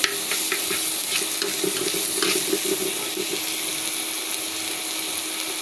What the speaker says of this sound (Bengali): এখন আমি এর মধ্যে আদা বাটা দিয়ে দিব।